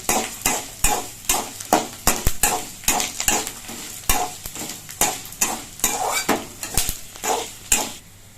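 Ingredients for fig (athikai) thuvayal, a herbal preparation, are sautéed in a pan. A soft sizzle sits under rhythmic, repeated scrapes and clinks of a spoon stirring against the metal, close and steady.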